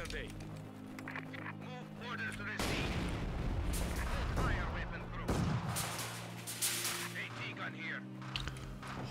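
Video-game weapon-crew gunfire and artillery: heavy booming blasts and rattling shots crash in waves, with two big explosive surges, while voices talk over the battle.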